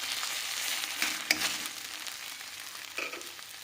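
Mustard greens sizzle softly in a pan as their water cooks off. The quiet, steady frying hiss is close by, with a few brief crackles and stirring scrapes.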